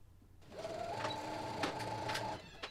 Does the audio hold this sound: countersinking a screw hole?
no